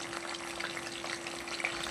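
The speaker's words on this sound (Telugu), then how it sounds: "మనం రెడీ చేసుకున్న ఈ మటన్ కూడా ఇందులోనే వేసుకోవాలి ఆయిల్లో" Mutton fries in oil in a pan for a gongura mutton dish, a brief, moderately loud and even sizzle with light crackles and a faint steady hum beneath.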